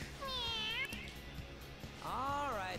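Cat meowing in Persona 5, two drawn-out, rising-and-falling meows a couple of seconds apart, heard over a busy game soundtrack and background chatter.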